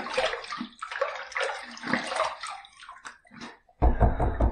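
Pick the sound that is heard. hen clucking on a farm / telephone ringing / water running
water running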